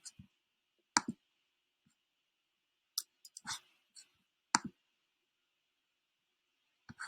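Mouse clicks while choosing a font in WordPress: sparse, sharp single and double clicks, close and fairly quiet, spread irregularly over a few seconds with long silent gaps and no talking.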